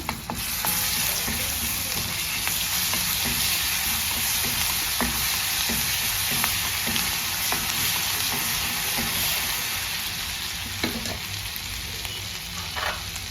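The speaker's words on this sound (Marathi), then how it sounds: "त्यात लाल लसूणची चटणी टाकते मी, ती पण आपण जरा परतवून घेऊया।" Peanuts and red garlic chutney sauté in a hot pan for spinach broken-wheat khichdi, with a dense, steady sizzle up close and occasional scrapes and taps of a spoon stirring, with no talk.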